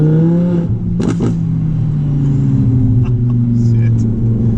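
An Audi R8 V10 RWS with a Quicksilver exhaust rumbles low and steady from close by, its tone slowly rising and falling. Someone talks over the engine throughout.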